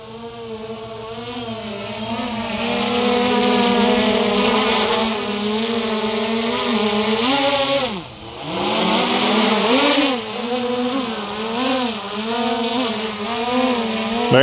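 An Autel Evo2 drone carrying a dual sling load bracket, flying nearby in light wind; a loud steady whining rotor buzz whose pitch dips and swells as it maneuvers.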